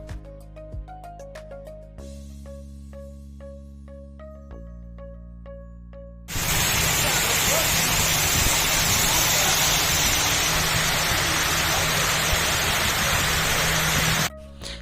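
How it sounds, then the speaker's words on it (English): The waterfall at Waterfall Park near the Galleria roars as a steady, loud wash of rushing water for about eight seconds, following a stretch of music, then cuts off abruptly. "this is the Waterfall Park"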